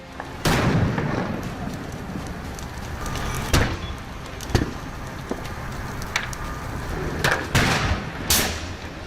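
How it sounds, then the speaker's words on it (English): A Ford pickup truck burning on a residential lane, with sharp explosive bursts and pops cracking out repeatedly over a steady roar of flames, several loud blasts spaced irregularly through the fire. "A Ford pickup truck suddenly burst into flames on Alameda Lane for unknown reasons. The vehicle repeatedly exploded"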